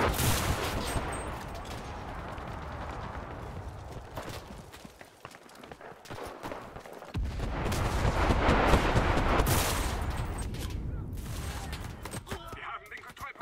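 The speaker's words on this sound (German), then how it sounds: "Ich habe nur von links Schüsse gesehen, aber von links konnte ich keine schießen." Gunfire in the WWII shooter game Enlisted, with repeated shots and bursts crackling at varying distances over a busy battlefield din, the intensity swelling and fading throughout.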